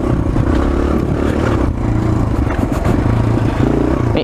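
A Suzuki DR-Z 125L dirt bike held in fourth gear on a rutted track with jumps, its engine droning loud and steady close by with a buzzy exhaust and a brief dip partway through.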